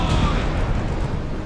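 Cannon fire from a sailing schooner in the mobile game The Pirate: Caribbean Hunt, a loud, dense rumbling boom that fills the whole moment without pause.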